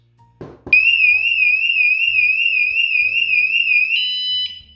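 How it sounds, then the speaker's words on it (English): A couple of light taps, then a loud, shrill electronic vibration alarm from a Vanolarm Lite warbles steadily for about four seconds, shifts pitch briefly and cuts off. "the main alarm goes off as seen"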